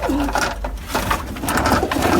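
Pigeons coo in a loft, several soft throaty calls overlapping close by in a quick, uneven rhythm, with light fluttering noise and no talk.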